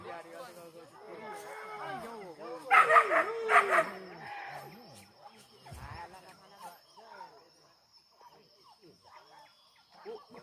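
Hunting dogs yelp, bark and whine during a morning wild boar hunt in Talang Tangah, their excited calls rising and falling close by amid people talking.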